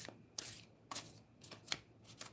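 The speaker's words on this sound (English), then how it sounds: "I'm going to go ahead and pull one card from Spirit Keeper's deck. I haven't even shuffled this deck yet." Tarot cards from a Spirit Keepers deck are shuffled in several quick riffling bursts, close and crisp, with short pauses between each flurry.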